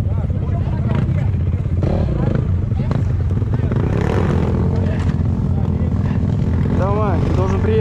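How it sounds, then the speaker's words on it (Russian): Buzzing two-stroke motorcycle engine revving continuously up close, with rattling and wind noise, while voices talk over it. "купил себе двухтактный мотоцикл"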